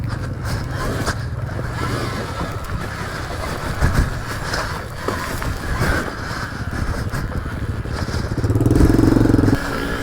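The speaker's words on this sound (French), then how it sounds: "j'ai mis la moto sur la courbe de puissance numéro 1" Steady motorcycle engine drone riding on a forest track, close and continuous, with occasional thumps and scrapes from the terrain and a louder rumbling burst near the end.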